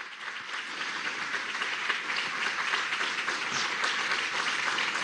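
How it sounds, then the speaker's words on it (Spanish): A hall audience at the 2021 National Journalism Prize ceremony applauds José Vicente Rangel, a dense, steady wash of many hands clapping close by that holds evenly throughout with no talk over it. "a quien pido un fuerte aplauso."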